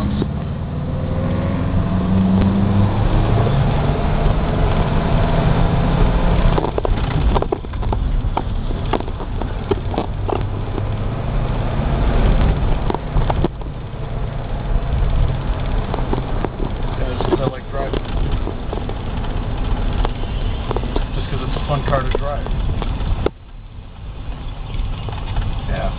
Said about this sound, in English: Taking a video of me driving the Studebaker.